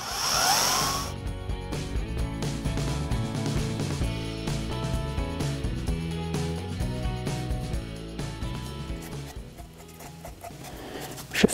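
A power drill bores a first hole through a piece of driftwood, its motor whining steadily and loudly for about ten seconds after a short burst at the start, then stopping with a final clunk.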